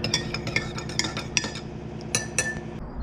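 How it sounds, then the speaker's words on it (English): A spoon stirs raw onion and mini sausages in a pan, giving quick, close metallic clinks and scrapes in an irregular rhythm over about three seconds, with no voices. "Give it a little stir"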